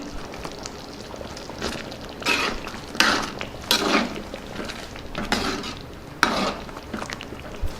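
Spoon stirring butter into a pan of pool makani potato curry, with repeated close scrapes and metallic clinks against the vessel in an irregular rhythm.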